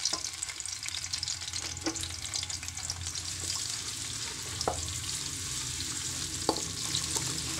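Chopped medium onion shallow frying in oil, a steady loud sizzle with soft crackle and a few sharp pops and stirring clicks throughout, no voices.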